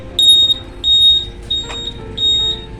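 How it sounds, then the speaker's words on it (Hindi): A Splendor Plus motorcycle's buzzer sounding at switch-on, a loud, close electronic beeping repeated about four times in an even rhythm, with no speech over it. "देखिए दोस्तों ये बजर जो है स्विच ऑन करने पे बजता है।"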